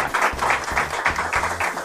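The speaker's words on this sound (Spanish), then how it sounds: "Otro aplauso, por favor, producción." A studio audience at a regional Mexican music show clapping in a rhythmic, pulsing pattern, with bursts of claps arriving at a steady beat over a low background hum.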